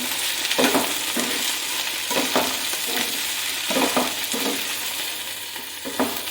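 Okra curry with onion fries in a pan while a spoon stirs it in repeated scraping strokes over a steady sizzle, close and fairly loud, without speech.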